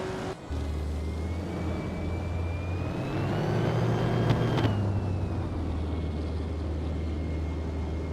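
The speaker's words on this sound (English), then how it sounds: "Hingle McCringleberry is racing a 1937 Auto Union Type C" A 1937 Auto Union Type C racing car engine in a racing video game, a steady loud drone with a rising whine that peaks and falls away midway, holding on without any voices.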